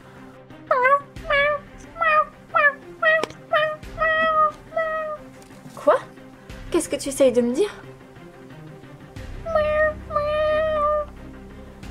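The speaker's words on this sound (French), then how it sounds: "Qui peut bien être ce chat?" A cartoon cat meows repeatedly in short rising calls, loud and close, with a few longer yowls between and a voice speaking partway through.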